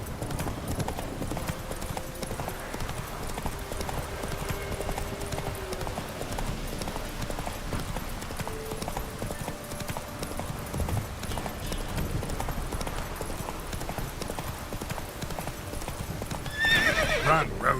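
Roach, a horse in The Witcher video game, gallops with a steady, continuous clip-clop of hooves and whinnies amid game ambience, ending in a louder burst near the close.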